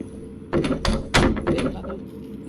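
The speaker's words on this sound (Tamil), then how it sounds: "கதவு துடைக்கிறானோ உடைக்கிறானான்னு தெரியல." A door being banged on in the Kamla horror video game: a series of loud, heavy thuds in an irregular cluster of about four or five blows, close and booming, with no talk.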